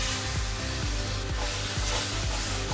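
Spices and cashew paste are stirred in a hot frying pan, a spoon scraping rhythmically every half second or so over a soft continuous sizzle, close and moderately loud.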